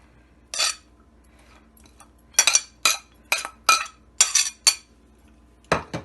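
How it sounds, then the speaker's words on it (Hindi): Chopped onion going into a chicken samosa filling, heard as a series of sharp clinks and taps of a spoon against a metal or glass vessel, about eight distinct close hits with quiet gaps between. "अभी हम इसमें प्याज डालेंगे।"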